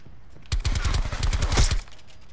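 Rapid bursts of assault rifle gunfire in Call of Duty: Black Ops 4 crackle in quick succession for over a second, loud and punchy, then cut off abruptly.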